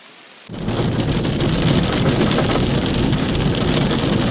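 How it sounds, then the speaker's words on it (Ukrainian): Rain bursts in suddenly and keeps pouring hard and steady, with a deep rumble of thunder underneath the dense hiss. "Грибний дощ."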